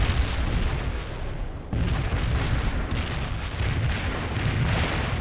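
Mortar strike explosions in a war video game boom and rumble heavily, a dense, loud barrage of low blasts with one brief dip before the shelling resumes and keeps pounding.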